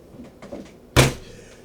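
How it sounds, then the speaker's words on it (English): A single heavy thump from a fist slammed down in rage, loud and close after a second of quiet rustling, ringing briefly before fading. "And then in a fury of rage, he slams his fist down."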